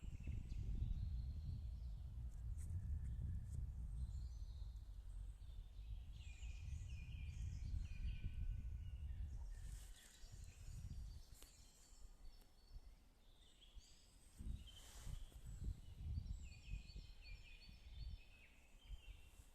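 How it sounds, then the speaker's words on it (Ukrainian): Birdsong chirps and trills at moderate distance in a forest in the morning, over a low, steady rumble that fades partway through, leaving quieter outdoor ambience with scattered calls. "пташки співають"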